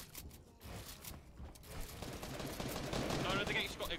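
Gunfire in the video game Fortnite, a burst of rapid shots that grows denser and louder toward the end over a noisy game background, with voices talking faintly.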